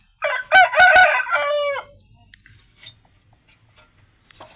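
A rooster crows once, loud and close, at a poultry farm selling chickens, followed by quieter scattered clucks and faint farmyard sounds.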